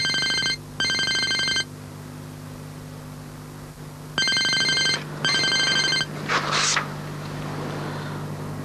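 A telephone rings in repeated electronic double bursts, loud and close in a quiet room, with a pause between pairs and a brief rustle near the end.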